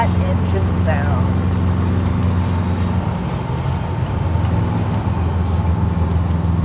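Iso Rivolta car engine under way on an open road, a steady low drone with layered harmonics holding throughout, close and continuous, with faint higher noise over it.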